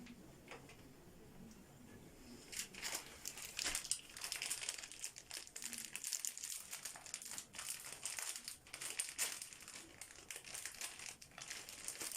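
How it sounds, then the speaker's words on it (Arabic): A plastic bag of spaghetti is handled in a home kitchen, giving continuous close crinkling and rustling that runs the whole time with no talking. "هذا كيس السباكيتي، شوفوا بنات شلون راح نحطها"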